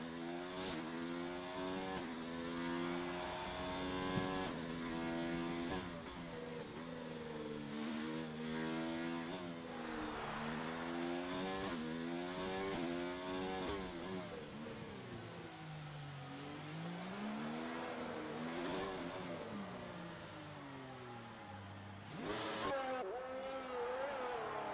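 Race car engine in a video game on a flying lap around Monaco, loud and continuous, revving up and down through the gears with sweeping pitch changes as it brakes and accelerates through corners.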